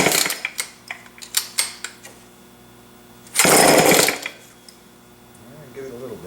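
Attempts to cold start a Homelite chainsaw: a string of sharp pull-cord yanks, then the engine catches for a loud, rough burst of under a second before dying, with a voice speaking briefly afterward.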